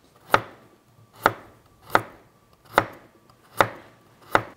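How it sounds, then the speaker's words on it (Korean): Carrots being chopped into bite-sized pieces with a knife on a cutting board, six sharp, evenly spaced knocks close by, each ringing briefly, with no voices. "이렇게 당근은 먹기 좋은 크기로 썰어 주시면 되고요"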